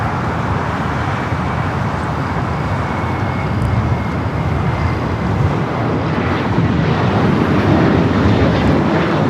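A TAP Air Portugal A330neo taking off at LAX, a steady loud jet engine roar that fills the whole stretch and swells slightly toward the end.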